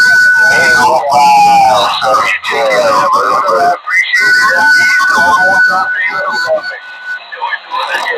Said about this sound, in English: That is a very creative Roger beep, I must say.